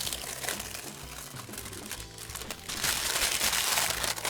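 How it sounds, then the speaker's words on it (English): Old cellophane wrapper from a 1987 Topps baseball card cello pack crinkles and crackles continuously up close, a dense, bright rustle that grows louder toward the end. "Sorry about all that crinkly noise. That is some old cellophane, and it's very crinkly."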